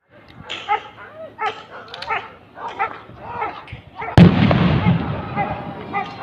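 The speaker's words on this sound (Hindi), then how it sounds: "कुछ फायर फाइट और ब्लास्ट की आवाज सुनाई दिया।" Gunfire and a blast ring out at an outdoor NCC Day dog squad demonstration. A dog barks and whimpers through the first seconds, then a loud sustained burst of firing and explosion noise takes over.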